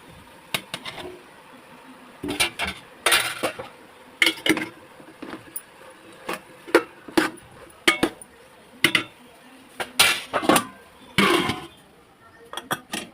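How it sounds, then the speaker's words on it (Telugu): Tomatoes tipped into a pan of softened vegetable pieces, heard as irregular bursts of close metallic clinks, scrapes and soft thuds of utensil against cookware, with quieter pauses between and no talking. "ఇప్పుడు టమాటాలు వేసుకుందాం"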